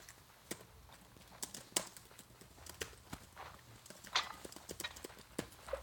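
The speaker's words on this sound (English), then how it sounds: "I hear footsteps." Footsteps in a battle royale shooter, a custom tournament match, sound as a series of faint, irregular clopping steps at a distance, with soft clicks and thuds mixed in.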